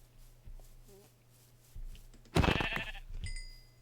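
Sheep bleat in a blocky survival game, a few short quiet calls early, then a louder burst of bleating with clattering in the middle and a faint tonal sound near the end.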